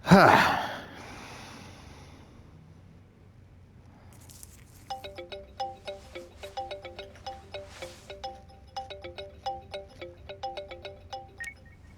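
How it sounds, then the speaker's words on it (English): After a sharp gasp, a video game cutscene plays a phone ringtone, a repeating melodic electronic chime ringing in short bursts for several seconds. "You just hear that and you think it's your own phone."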